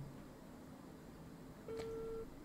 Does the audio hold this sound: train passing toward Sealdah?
no